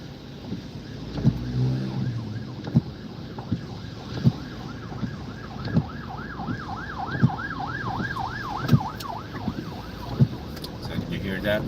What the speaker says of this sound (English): So did you hear that? There's a siren.